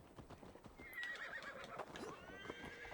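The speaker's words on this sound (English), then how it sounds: "Get my horse." In the video game Assassin's Creed Valhalla, a horse gives a drawn-out whinny over steady clip-clopping hooves, heard up close with no talking.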